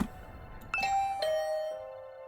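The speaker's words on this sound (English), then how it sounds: "I rang the doorbell and could hear the bell ring on the other side of the door." Doorbell ringing in a visual novel game, two clear chime tones struck in succession, the second ringing out and decaying, close and alone with no talk.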